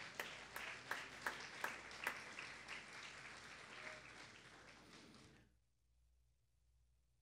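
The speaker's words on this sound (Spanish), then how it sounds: "Denle un aplauso al Señor" Church congregation applauding during a sermon, with distinct hand claps at first that blend into steady clapping, then fading out to silence after about five seconds.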